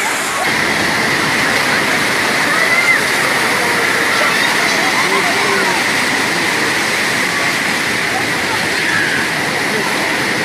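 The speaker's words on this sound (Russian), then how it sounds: "Попробую вот поймать момент, когда будут самые большие волны." Atlantic Ocean surf at Biarritz beach, France: a steady, loud broadband wash of breaking waves and churning foam, with no quiet gaps.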